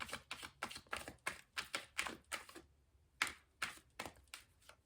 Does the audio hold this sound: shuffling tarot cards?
yes